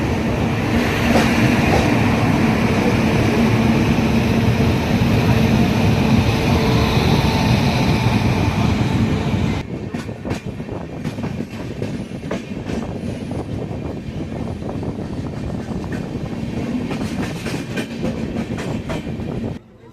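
The Tambaram-Jodhpur Express runs at speed with a loud, continuous roar of wheels on rails, with rhythmic clacking becoming clearer after the rumble shifts midway.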